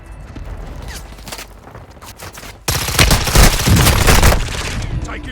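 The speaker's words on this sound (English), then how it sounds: "Taking fire over here!" Gunfire in a shooter video game, with scattered cracks at first and then a loud, dense fusillade of rapid automatic shots filling the second half, close and intense.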